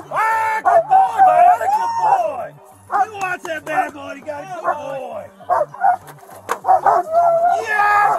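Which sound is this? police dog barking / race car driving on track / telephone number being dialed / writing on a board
police dog barking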